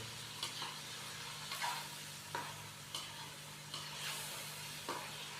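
Chicken and spices being fried in a pot for masala chicken pulao, a quiet constant sizzle punctuated by about seven scraping stirs of a spoon at irregular intervals.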